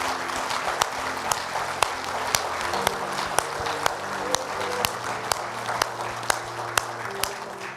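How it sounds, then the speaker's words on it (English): A church congregation claps hands in a steady, even rhythm, each clap sharp and regular over a continuous bed of applause with a low organ-like tone underneath. "Can you give Cookie and Lupe a tremendous hand clap"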